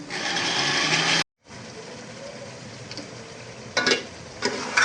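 A kitchen machine runs loud and steady while cutting salad, then cuts out abruptly and restarts, with a few short clattering bursts toward the end.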